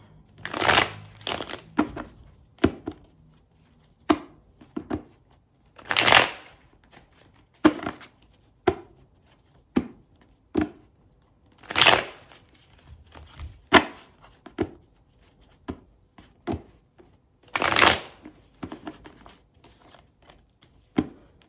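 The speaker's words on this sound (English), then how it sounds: "let's get a shuffle for you" Repeated bursts of playing cards being shuffled and riffled, close up, separated by short pauses and lighter taps and flicks of cards.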